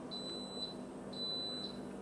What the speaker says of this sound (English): you probably heard that beeping. If you didn't, it beeped 3 times